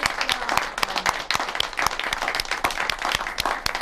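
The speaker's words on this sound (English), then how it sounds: "I think he deserves really a big round of applause because he did all the work" A round of applause at an annual meeting of a public access television station: brisk, dense clapping from a room of people, close and continuous, with sharp individual claps standing out.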